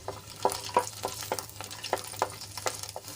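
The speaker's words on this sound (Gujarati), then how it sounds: "લસણને આપણે થોડુંક લાલ થાય ત્યાં સુધી સાંતળી લેવાનું છે" Twelve to fifteen garlic cloves sautéing in hot oil in a kadai for tomato chutney, a continuous sizzle broken by sharp crackling pops and spatters at irregular intervals, close and alone.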